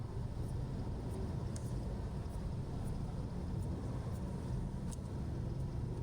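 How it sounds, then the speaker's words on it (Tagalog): Road traffic flows under an elevated Skyway near Terminal 3, a constant dense rumble of vehicles with faint, regular ticking above it and no voices. "Ayan, traffic na."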